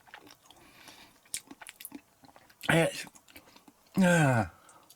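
Crunchy chewing of a chocolate-coated egg close to the mic, with brief bites and crackles, punctuated by two louder vocal sounds.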